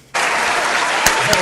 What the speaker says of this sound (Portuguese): Vamos esperar o Lucas colocar o aplauso ali para nós.